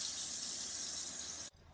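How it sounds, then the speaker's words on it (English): Water gushing steadily from a campervan sink faucet fed by a water pump, a loud close hiss of flow that cuts off abruptly near the end, with no talking. "Make sure that your water pump is on and simply open the faucet."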